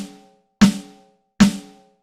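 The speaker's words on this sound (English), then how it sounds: "I have a steel snare drum. The head sounds like this," Steel snare drum head sound played on a Roland TD-07KV electronic drum kit, two sharp, crisp hits spaced under a second apart, each with a short ringing decay, heard alone and clearly.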